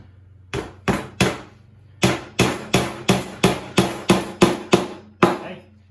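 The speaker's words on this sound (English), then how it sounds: "We're going to put a nail up here." Sharp hammer blows striking a nail into wood: three quick hits, a pause, then a steady run of about nine more, close and loud.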